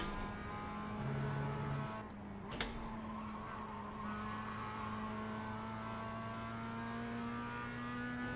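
A Mazda MX-5 racing around the Nürburgring Nordschleife in iRacing drones at steady, fairly high revs throughout, with one brief sharp click partway through and a gear change near the start.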